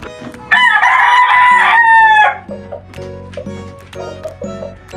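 A Sweater gamecock rooster crows once, close and loud, in a long, harmonic cock-a-doodle-doo, followed by softer clucks and farmyard sounds.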